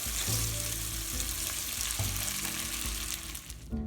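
Penne with garlic, oil, mushrooms and asparagus sizzles steadily in a pan, with a few scraping stirs cutting through the constant close frying hiss.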